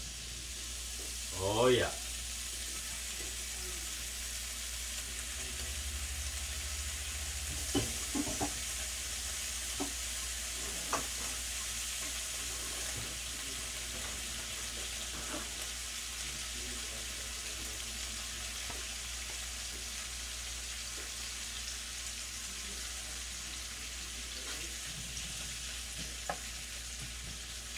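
Steak pieces sizzle and fry steadily in a hot pan for making steak and vegetable fried rice, with occasional stirring scrapes over a constant frying hiss and a brief spoken remark near the start.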